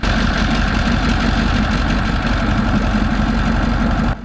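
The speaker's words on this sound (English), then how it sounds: "K2000E V16 engine." A Cummins K2000E V16 diesel engine idles steadily and loudly, a deep continuous rumble with a dense mechanical drone that holds constant before cutting off abruptly at the end.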